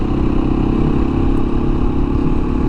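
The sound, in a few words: Beta 500 RR-S dual sport motorcycle engine running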